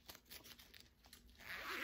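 A zipper is pulled closed on a small crochet zipper pouch, a quick rasping zip that builds toward the end of the short stretch, close and fairly quiet.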